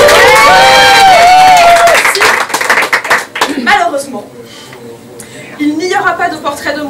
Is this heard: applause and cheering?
yes